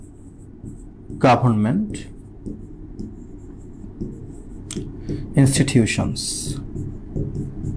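Marker or chalk strokes scratch across a board during a Bengali-to-English translation lesson, a steady run of short squeaks and scrapes under a teacher's intermittent speech.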